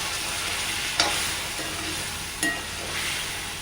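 Boiled elephant foot yam being stirred as it fries in chili powder, a close, steady sizzle with a couple of sharper spoon scrapes against the pan, and no voices.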